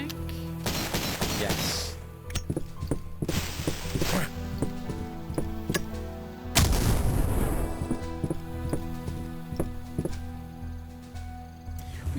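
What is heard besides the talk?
pistol gunfire in the video game Cultic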